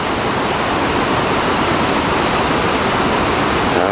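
Loud, steady roar of rushing water at Niagara Falls, heard on the back side of the flow near Three Sister Island, a continuous broadband wash with no pauses and no voices.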